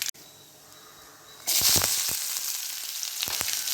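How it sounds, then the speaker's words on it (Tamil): Mustard seeds crackle in hot oil in a pan, starting after a quiet moment with a sudden loud burst of sizzling and sharp popping that keeps going steadily, heard close up with no voices. "கடுகு போட்டு பொரியுது"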